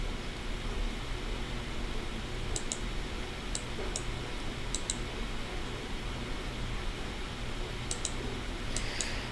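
Scattered keystrokes on a computer keyboard, a few sharp clicks in small clusters spaced several seconds apart, faint over a steady background hiss.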